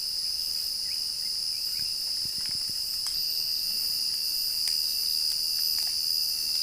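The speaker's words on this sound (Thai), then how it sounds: "เสียงจักจั่นเสียงนกเสียงกา" Cicadas buzz in a shrill, continuous high drone, with a few faint clicks and a distant bird call here and there, in a coffee garden in rural southern Laos.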